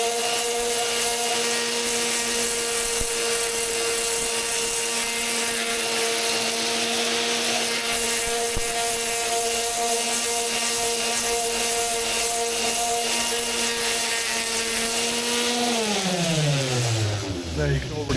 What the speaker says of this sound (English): so we've got a 60 grit disc